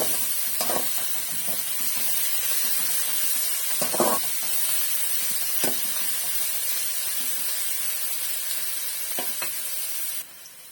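Onions sauté in a pan for a drumstick stir-fry, giving a steady, close sizzle with occasional scraping stirs over about ten seconds until it suddenly stops.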